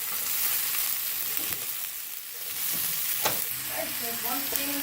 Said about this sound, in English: you're going to add some of your onions to begin, just enough to cover the base of your pan